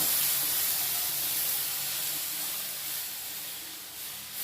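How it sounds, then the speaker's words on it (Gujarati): Milk poured into hot roasted rajgira (amaranth) flour sets off a loud, bright sizzle and steamy hiss that starts strong and slowly fades. "આ લોટ એકદમ શેકાઈ ગયો છે હવે તેની અંદર આપણે એક લોટો દૂધ નાખીશું"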